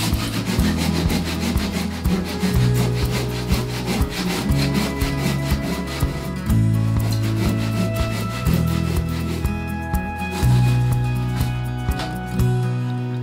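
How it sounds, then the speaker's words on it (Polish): A hand saw cuts steadily through a wooden tree stump in rhythmic back-and-forth strokes, loud and close, continuing for the whole stretch. "Nie ma jak stara, poczciwa piła ręczna"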